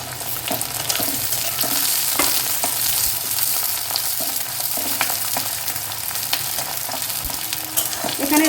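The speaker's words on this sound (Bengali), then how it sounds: "রসুন পেঁয়াজটা আমি খুব বেশি ভাজবো না" Whole garlic cloves, onion and a few green chillies fry in a pan with a dense, continuous sizzle and crackle, punctuated by light stirring clicks throughout.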